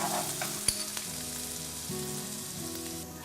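Minced garlic, shallot and chili fry in a tablespoon of vegetable oil in a pan, a steady close sizzle with a few sharp crackles and occasional clinks of stirring.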